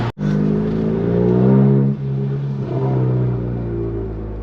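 A VW Golf MK7 GTI fitted with an IS38 turbo holds its engine against the rev limiter, a loud, close, steady droning buzz that bounces off the limiter with a brief cut and dip partway through.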